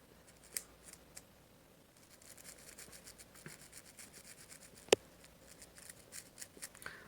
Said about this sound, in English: Just scrub it down a little bit.